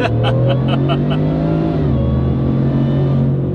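A 725-horsepower Ford F-150 crew cab pickup engine revs up hard, its pitch climbing steadily as it accelerates, loud and close, with a few faint clicks at the start.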